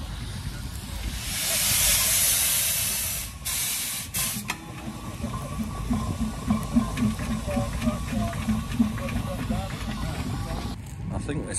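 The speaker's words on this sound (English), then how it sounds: "The old steam engine is stuck." A loud burst of steam hissing from an old steam ploughing engine stuck in a wet field at a ploughing match for a few seconds, then a chugging machine rumble continues with people talking over it.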